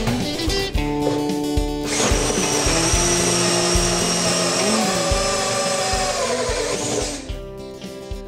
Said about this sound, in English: I just drilled a couple of holes.